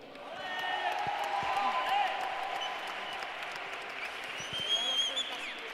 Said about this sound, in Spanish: un aplauso, porque es la primera vez que terminamos en tiempo